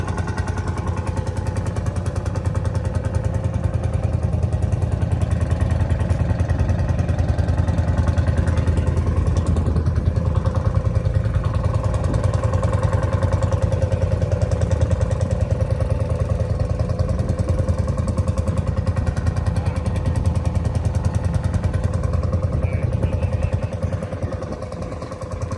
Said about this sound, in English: pretty cool old tractor.